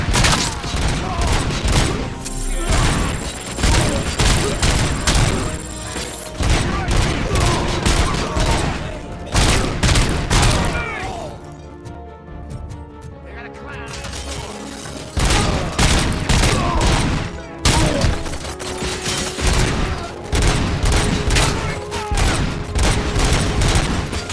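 Sustained automatic gunfire from a futuristic shooter game set in the Robocop universe, Rogue City: dense, loud volleys with heavy booms, a brief lull midway, then the firing resumes, with faint voices mixed in.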